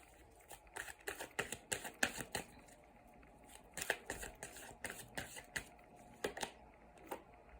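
Tarot cards are shuffled and drawn by hand, giving a series of quick papery flicks and soft slaps in irregular bursts, close and fairly quiet, with no talking.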